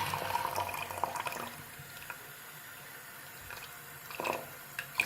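Tap water washing off the lid of a rock tumbler, a soft splash at first that fades to a quiet trickle with a few faint clinks and drips near the end.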